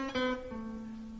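A blues lick in Dorian mode on a single melodic instrument climbing three notes and settling on the root A, clear sustained tones, quiet and close with nothing else in the background.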